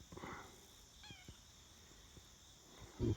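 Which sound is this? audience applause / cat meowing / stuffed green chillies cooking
cat meowing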